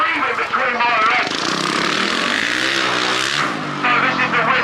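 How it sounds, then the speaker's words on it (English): A vintage rally vehicle with a new loud exhaust revs nearby, a rough, loud engine roar that rises and falls in pitch, with someone talking over it. "It's got a new exhaust on the back, it's really loud."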